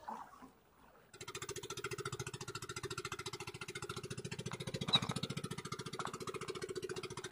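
Fishing boat engines nearby chug with a rapid, steady knocking rhythm that starts abruptly and runs continuously.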